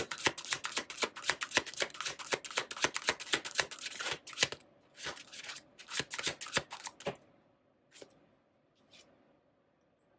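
Tarot cards being shuffled close up: a quick run of crisp riffles and flicks, then a few scattered single snaps and slides as cards are drawn from the deck, with no talking.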